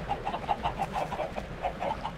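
Chickens in a Minecraft chicken farm machine cluck in quick, repeated bursts, a busy rhythmic chatter of short calls that continues steadily at moderate volume.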